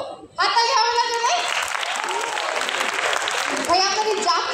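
Audience clapping swells at a school tech carnival, a burst of applause lasting a couple of seconds, with a presenter's voice and other talk heard around it.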